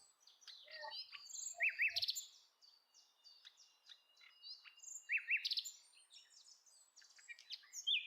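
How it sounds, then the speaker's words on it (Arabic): Small birds chirp and twitter in a Moroccan garden, bright calls in two clustered bursts with scattered single tweets between them, faint and fairly distant against near silence. "وانت كتمشى في هاد الجنانات فانت غادي وكتسمع صوت العصافير"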